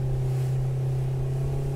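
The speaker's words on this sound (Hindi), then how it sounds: "पानी चढ़ा और हम हुए स्पीड बोट पे सवार।" A speedboat motor runs at a steady hum on a ride through a mangrove at high tide, its even engine drone and low rumble constant and close throughout.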